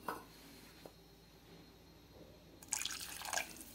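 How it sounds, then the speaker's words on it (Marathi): Water is poured into a pan of simmering masala for a village-style fresh green chickpea amti, a wet splashing burst arriving near the end after a quiet low background. "यामध्ये थोडंसं पाणी अजून घालावं लागेल"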